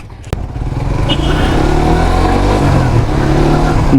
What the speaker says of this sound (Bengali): আমার জিএসএক্স আর প্রথম আমি ড্রাইভ করতেছি